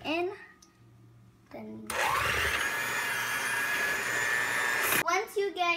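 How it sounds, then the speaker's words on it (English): An electric hand beater whirs steadily and loudly for about three seconds, creaming sugar, eggs and butter for a Fourth of July red velvet cake, with someone talking briefly before and after. "Then you're going to turn on your beater and plug it in."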